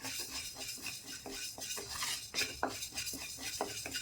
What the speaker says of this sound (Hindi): इसे भी हम तब तक भूनेंगे जब तक कि इसमें से अच्छी सी खुशबू ना आने लगे